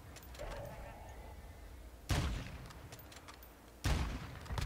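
Two heavy gunshots boom in Call of Duty Warzone, a few seconds apart, each a sharp loud blast with a rumbling tail, over faint background game noise and low voices.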